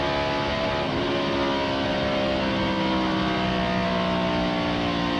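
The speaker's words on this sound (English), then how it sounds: "Boy, listen to that motor go down the back straightaway." Tony Stewart's 1999 Joe Gibbs race car roars down the back straightaway, a loud, steady engine drone holding high revs with no pause throughout.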